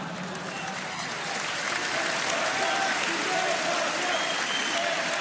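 Sustained applause from a political rally audience, dense and steady across the clip, swelling slightly after the first second, with some crowd noise mixed in.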